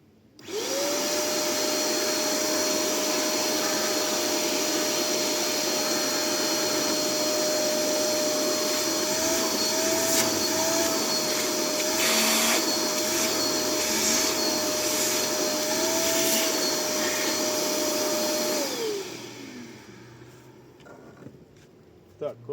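A Machtz MVC-1320 P construction vacuum cleaner roars loudly and steadily with a constant whining drone for most of the clip, then powers down and winds to silence.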